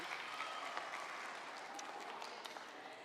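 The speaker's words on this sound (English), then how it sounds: "Give her a round of applause again." Steady applause from a small crowd, even and continuous, heard at a moderate distance with no voices over it.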